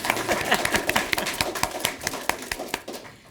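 A small audience at a city park board meeting gives a round of applause, distinct individual claps in an uneven rhythm that thin out toward the end.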